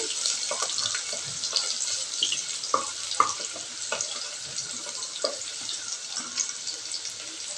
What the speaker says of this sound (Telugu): మీడియం ఫ్లేమ్లో గోల్డెన్ బ్రౌన్ వచ్చేలా వచ్చే వరకు కొంచెం ఇలా ఫ్రై చేసుకోండి